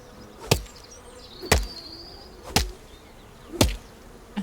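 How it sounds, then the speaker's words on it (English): Bees buzz around a tree in the Chop Chop video game, a thin, faint drone underneath four sharp, evenly spaced axe strikes about a second apart. "I can hear bees. Why is there bees over there? They're around that tree"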